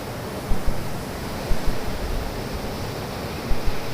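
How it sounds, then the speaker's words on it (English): Steady roar of surf with occasional soft thumps of waves breaking, broadband and continuous, no voices. "Waves."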